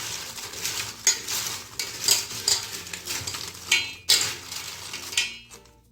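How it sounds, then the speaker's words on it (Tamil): Crispy fried tapioca chips being tossed by hand with chili powder, giving close, dry rustling and crunchy clattering in short bursts, no talking. "கையால் அப்படியே நீங்கள் கலந்து விட்டுக்கோங்க."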